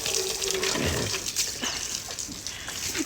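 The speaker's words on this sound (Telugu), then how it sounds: "మరి బ్యాగ్ చూసుకోకుండా నీళ్ళు పోతున్నావు" Water splashes and trickles faintly as it is poured over a bag being washed in a shed, with soft intermittent sloshes and a background hiss at low level.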